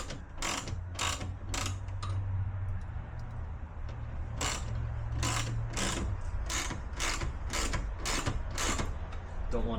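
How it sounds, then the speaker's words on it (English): Repeated ratcheting clicks from a hand tool tightening screws during a speaker install in a Mazda MX-5 Miata ND3, coming in short bursts of rapid clicks, close and fairly loud over a steady low hum. "I want to tighten all of them evenly."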